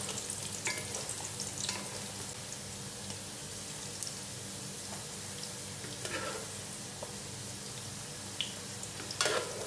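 Fish cake being stirred as it fries in a pan, a steady close sizzle and crackle of hot oil with occasional scraping stirs and soft knocks against the pan.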